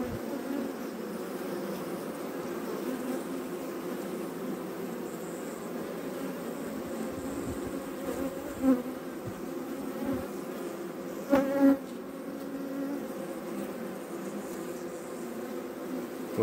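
A dense, steady buzz of many bees fills an open beehive up close. A few louder individual buzzes pass near, and there is no talking.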